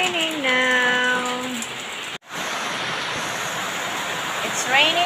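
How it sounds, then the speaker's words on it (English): Steady heavy rain hisses throughout, with a brief dropout partway through; a voice speaks over the first couple of seconds. "It's raining so hard right now."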